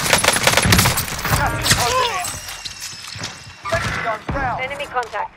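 Rapid automatic gunfire with a QBZ-83 rifle in Call of Duty Warzone rattles in dense bursts alongside thuds and impacts, with voices talking over the game combat throughout.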